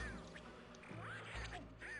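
Frankenstein ducks in a haunted mansion level of Donald Duck Goin' Quackers give several nasal quacks in quick succession over a steady game backdrop.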